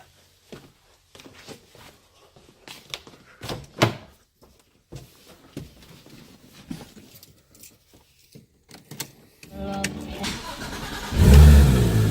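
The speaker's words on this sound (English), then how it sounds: "I'll start the car" A Porsche GT3 RS engine with a lithium battery cranks and starts near the end, rising into a steady loud idle after a series of scattered clicks and thumps.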